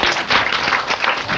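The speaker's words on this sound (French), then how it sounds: "Bravo, on applaudit pour lui." A classroom of young schoolchildren claps for a classmate, a short burst of dense, uneven applause close by.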